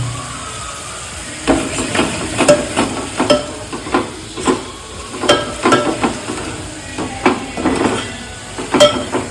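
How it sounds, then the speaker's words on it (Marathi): Spice masala frying in hot oil in a pan for a Vidarbha-style chilli vegetable dish, with steady rhythmic stirring scrapes and clacks roughly every half second over a soft continuous sizzle. "या मसाल्याला तेलामध्ये थोडं टाकल्यानंतर लगेच गॅस थोडा कमी करायचा, जेणेकरून मसाले चांगल्या प्रकारे भाजतात."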